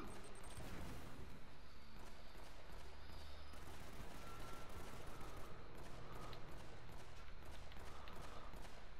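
Sustained gunfire in the video game Uncharted: Drake's Fortune at the Customs House, a dense, continuous fusillade of shots rattling at moderate distance for the whole stretch.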